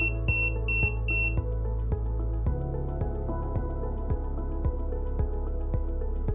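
A wearable health-monitoring device for an Alzheimer's patient sounds a lunchtime reminder as a repeated buzzer tone, three short beeps near the start over a steady background hum with regular ticking pulses.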